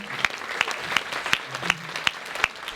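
A small audience at a Vovinam martial arts club's 30th anniversary celebration applauds steadily for several seconds, with a few louder individual claps standing out from the even patter.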